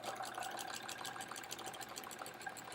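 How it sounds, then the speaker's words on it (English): A sewing machine stitches in the ditch along the seams of a sampler quilt, running as a steady, continuous whir with a fine rapid rhythm, close and alone with no talking. "we're cruising along with this stitching in the ditch"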